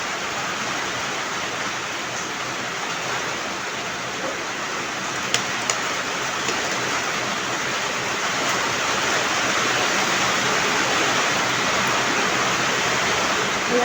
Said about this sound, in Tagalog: naririnig nyo yung patak ng ulan sa aming lubong.